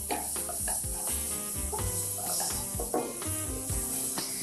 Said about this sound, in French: je rajoute une cuillère à soupe de tomates concentrées. Je mélange encore.